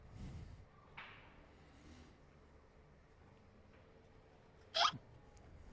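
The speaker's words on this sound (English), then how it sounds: "It's a hiccup." A single short, loud hiccup-like burst rings out near the end of a quiet stretch at a pocket billiards match, with faint room ambience and a soft thump earlier.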